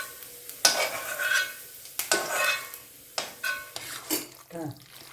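A spoon stirs a garlic pickle mixture in a pan in a series of scraping, clattering strokes against the metal, with a soft sizzle underneath.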